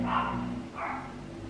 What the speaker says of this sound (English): my dog barking downstairs